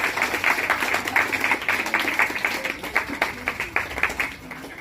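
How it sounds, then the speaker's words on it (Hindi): Applause from a crowd at a magic performance during a Babasaheb birth anniversary celebration, dense rapid clapping sustained throughout with a few sharper bursts, fairly close and steady. "देखिए ताली बजा दीजिए जोर से लोग।"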